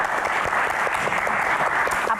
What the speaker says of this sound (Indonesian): Tepuk tangan untuk Axel sebagai